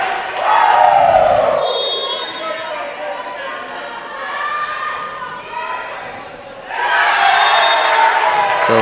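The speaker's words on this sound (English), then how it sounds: "They're cheering on the Blue Jays" A college volleyball crowd at a Tabor versus York match roars and cheers loudly, with whoops and shouts that rise, ease off slightly, then surge again near the end.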